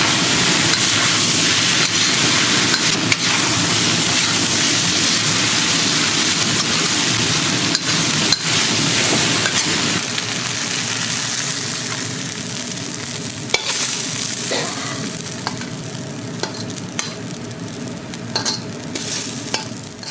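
Homemade Xi'an-style noodles with green onion stir-fry in a hot pan over medium heat, giving a steady broadband sizzle with scraping stirs and occasional utensil clicks throughout, close and fairly loud, with no talking.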